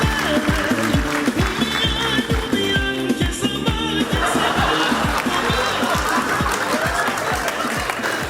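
A studio audience claps loudly and steadily to welcome a television show's host, with a rhythmic beat of music running underneath and the applause holding at full strength throughout.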